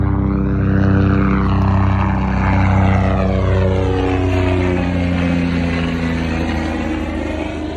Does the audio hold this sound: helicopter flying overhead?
yes